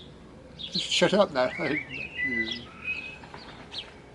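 A blackbird perched on a neighbour's rooftop aerial sings a run of clear, whistled phrases, fairly close, partly under a voice speaking at the start.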